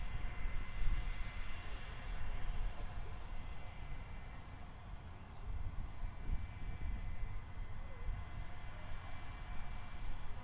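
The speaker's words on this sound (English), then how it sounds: "here is an Airbus A319, quite a rare newer movement for Perth, coming in from Broome" An Airbus A319 airliner arriving at Perth Airport from Broome, its engine roar a steady, fairly distant broadband rumble that holds level throughout with no talk over it.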